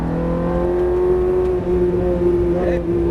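Ferrari F430 engine pulling hard on a race track, a loud, close, steady rising drone with strong harmonics that climbs in pitch near the end.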